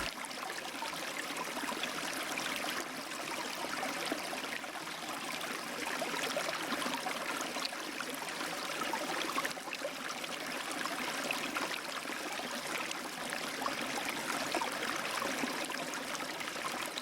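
A river flows steadily in a plasticine stop-motion mountain folk tale, a continuous rushing, trickling wash of water that holds an even level throughout with no voices.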